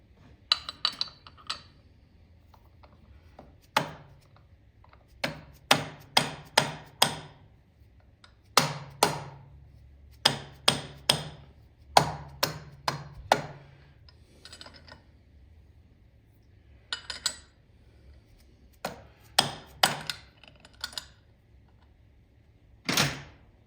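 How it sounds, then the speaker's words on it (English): A dead blow hammer taps the primary throwout bearing on a 1987 Softail with an Evo engine and Shovelhead primary, giving sharp knocks in short clustered bursts separated by quiet gaps, close and fairly loud. "Just take the dead blow and tap that and it'll loosen right up."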